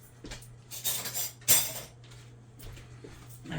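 A metal spoon scrapes cream of mushroom soup out of a can, making quiet clinks and scrapes in a few short bursts with pauses between them.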